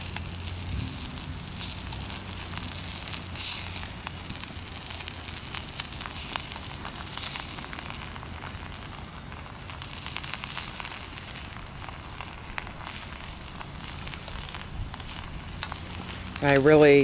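Sausage and potatoes sizzle steadily in a pan on a DIY wood stove outdoors, a constant soft crackling fry with a few clinks and scrapes, ending with a louder rattle.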